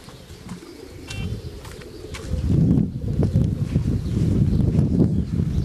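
Racing pigeons arrive at a loft during a homecoming race, with soft cooing and fluttering close by that grows busier midway, plus light scattered chirps over low background rustle.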